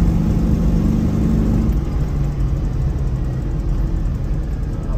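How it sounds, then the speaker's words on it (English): Steady engine and drivetrain drone from a Citroën Ami 6 driving along, with a low gearbox whine and rumble from a worn second gear synchromesh, continuous and fairly loud throughout, with no talk. "A little bit of a grunge, as Nick told me there would be from the second gear synchromesh"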